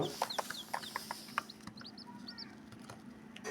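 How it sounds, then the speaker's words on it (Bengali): Egyptian Fayoumi chickens cluck in short, scattered bursts nearby, with soft chirps and a faint steady hum in the background; no talking. "এই মিশরি ফার্মি মুরগি"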